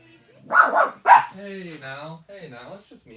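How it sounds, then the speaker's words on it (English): Dogs bark indoors in a home where trading card orders are being packed: two loud, close bursts of barking in the first second or so, followed by a person talking. "Crazy dogs."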